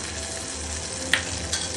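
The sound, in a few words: sizzling tempering poured into chutney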